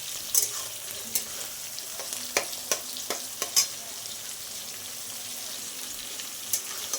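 Onions fry in a pan, reddened to a golden brown, with a steady hiss under sharp intermittent scrapes and taps of a spatula stirring them; no voices.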